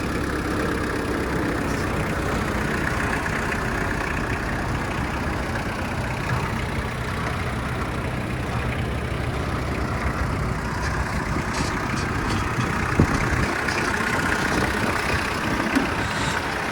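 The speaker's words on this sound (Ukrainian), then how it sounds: "фреза працює, тракторець їде" Kubota GT-5 mini tractor driving with its rotary tiller running, a steady close engine drone with broadband churning from the tiller, continuous and even throughout.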